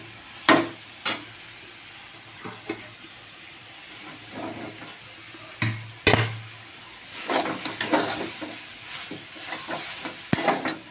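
Vegetables coated in a vegetable spice mix stir-fried in a pan for a vegetarian dish, a steady sizzle broken by repeated scraping strokes of a spatula, close and moderately loud, with no talking.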